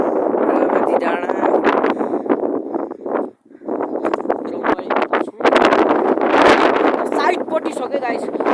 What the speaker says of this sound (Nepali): किनकि लास्टै हावा लागिरहेको छ।